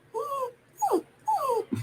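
A dog on a television whimpers in three short, high, wavering whines, each a fraction of a second long, heard indoors with no one talking over it.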